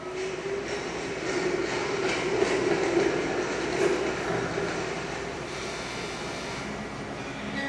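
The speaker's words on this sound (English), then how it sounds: "Yeah, see, the high-speed rail is coming." A high-speed rail train runs past as a steady broad rumble with faint rhythmic clatter, rising slightly in the middle and then holding at a moderate, fairly close level.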